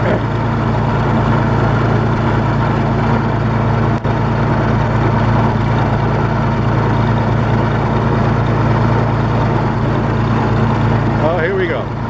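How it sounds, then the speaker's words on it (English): Oliver 70 tractor engine running steadily up a driveway hill under load, the governor working; a continuous loud, close low rumble with a thick droning tone and no talk over it. "Hopefully you'll hear the governor kick on here as I go up my driveway hill"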